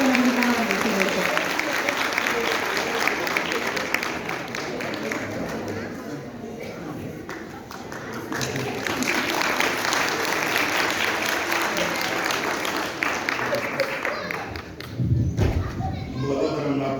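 A concert audience claps at a commemorative event for the 120th anniversary of Goce Delchev's death in Delchevo, giving dense, sustained applause that swells and eases, with some crowd voices mixed in.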